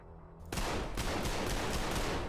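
Rapid automatic gunfire in a video game, a sudden burst of fast repeated shots after a brief quieter moment, loud and continuous to the end.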